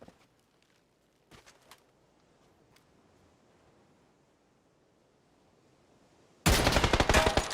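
Quiet stretches with a few faint shots early on, then a sudden, loud, rapid burst of automatic gunfire up close in a competitive shooter video game.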